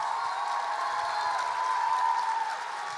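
A poetry slam audience applauds a poet after her scores are read, a dense, steady wash of clapping from a large crowd that holds evenly for about three seconds before easing slightly.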